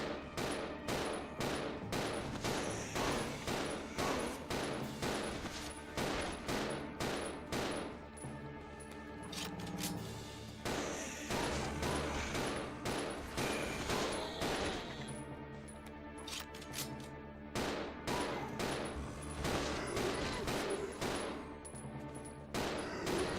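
Repeated gunshots fire in a steady, rhythmic stream in a Resident Evil game, each shot sharp and evenly spaced across a long stretch, moderately loud with a faint high tone behind and no speech.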